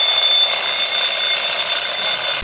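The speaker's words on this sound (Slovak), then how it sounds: "Budík som mala na 4:30" An alarm clock rings loudly and continuously, a bright piercing electronic tone held steady and close with no pauses.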